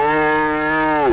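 A single loud, close cow moo, a steady sustained low call lasting about a second before cutting off, alone without any talking.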